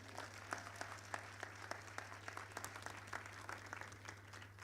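Faint applause from a crowd at a graduation ceremony, many hands clapping steadily over a low electrical hum.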